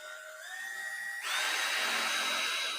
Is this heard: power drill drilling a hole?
yes